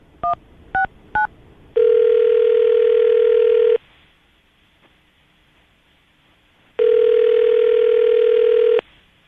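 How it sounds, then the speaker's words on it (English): Three short touch-tone dialing beeps, then a steady tone that holds for about two seconds, a pause of near silence, and the tone returns again. "We're going to call her right now, see if we can get her on the phone"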